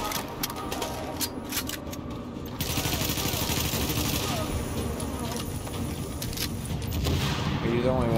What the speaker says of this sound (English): I did not mean to shoot.